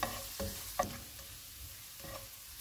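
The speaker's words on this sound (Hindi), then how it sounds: "इसमें चॉप किया हुआ 1 टेबल स्पून लहसुन डालेंगे। चूल्हे को कम रखेंगे, इसको 1 मिनट तक फ्राई करेंगे।" Soft sizzling of chopped garlic frying in hot oil over low heat, with a few light stirring scrapes and clicks, fairly quiet and close.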